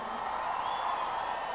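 Steady crowd roar with cheering and whoops from the audience at an Ivete Sangalo show at a rodeo in Americana, a dense continuous wash of voices holding evenly throughout.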